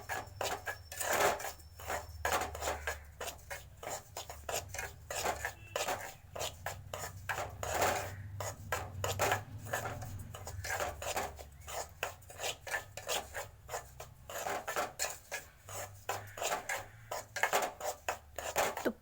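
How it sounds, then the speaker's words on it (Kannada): Semolina (rava) roasting in ghee, stirred briskly with a ladle in a pan, producing rapid, steady gritty scraping strokes, close and continuous for a long stretch. "ರವೆಯನ್ನು ತುಪ್ಪದಲ್ಲಿ ಹುರಿದುಕೊಳ್ಳಿ. 5 ನಿಮಿಷಗಳ ಕಾಲ ಹುರಿಯಿರಿ."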